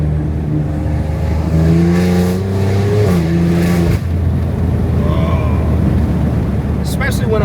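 A tuned, catless BMW X3M with a 600 hp S58 engine revs hard, the pitch climbing in rising sweeps before dropping off, then settling into a rough burble with sharp crackles near the end, loud and echoing off nearby buildings and trees.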